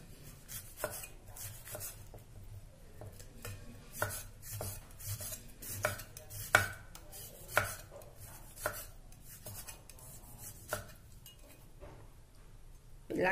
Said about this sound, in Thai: หั่นเป็นเส้นๆยาวๆหั่นบางๆนิดนึงค่ะ